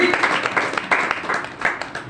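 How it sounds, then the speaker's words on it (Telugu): A church congregation clapping together in a quick, uneven burst of hand claps, with a voice talking over the clapping throughout. "చప్పట్లు కొడతారు."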